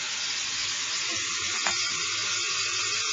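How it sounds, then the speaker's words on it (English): Water bubbling and churning as it slowly fills the chamber of an ECOsmarte municipal point-of-entry water treatment system during a rebed and cleaning, a steady close hiss with no talk. "I started hearing it bubbling up here, meaning we're getting close to the top"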